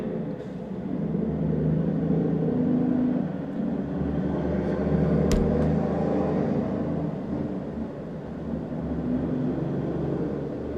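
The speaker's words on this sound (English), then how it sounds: "the whole house is fucking shaking right now. These trucks go by." Heavy trucks passing outside a house, a continuous low rumble that swells and eases over several seconds, close and loud enough to shake the building, with no voices.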